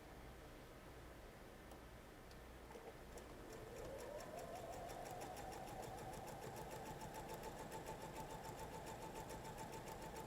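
Sewing machine piecing a quilt setting square to a triangle, a faint, quiet run that picks up steadily partway through and keeps a soft rhythmic whir, no talk.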